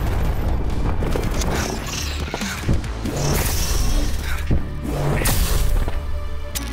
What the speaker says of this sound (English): How beautiful of an explosion isn't that? And it sounds, just sounds so powerful.